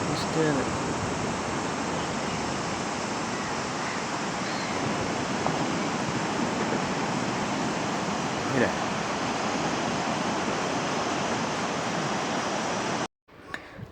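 Sea waves at a beach in Kannur make a steady, loud broadband wash of surf that runs unbroken almost to the end, with no talk over it.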